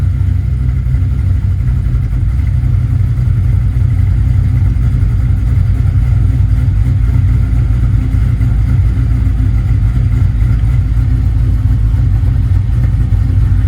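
A 383 LT1 V8 fitted with a TorqHead, in a Chevrolet 9C1, idles at about 800 RPM, producing a loud, steady, close-up low rumble that stays constant with no revving and no talk.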